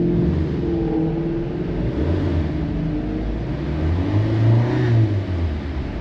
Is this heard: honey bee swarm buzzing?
no